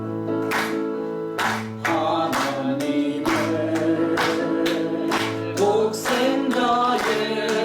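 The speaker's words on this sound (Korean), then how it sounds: "박수 치며 찬양 드리겠습니다." Church congregation singing hymn 171 together with steady, regular clapping along to the beat; voices and rhythmic claps blend loudly throughout, with sustained sung tones under the hand claps.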